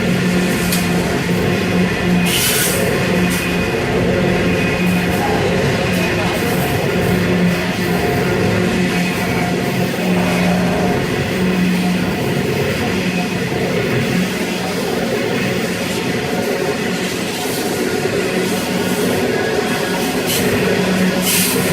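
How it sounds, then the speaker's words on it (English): A train rolls past in East Maitland, New South Wales, with a continuous loud rumble and hum that holds steady for over twenty seconds, plus occasional rattling bursts and no talking. "There you go, we finally reached the end of the train."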